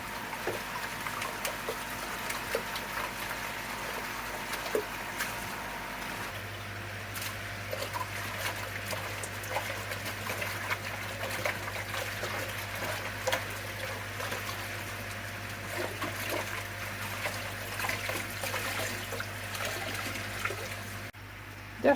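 Water trickles and dribbles continuously while a koi pond filter is cleaned, a soft steady flow with a low pump hum that sets in partway through, fairly quiet throughout.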